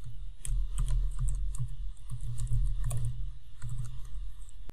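Keys clatter on a computer keyboard while Python code is typed, with quick irregular clicks in short bursts and brief pauses, close and fairly clear.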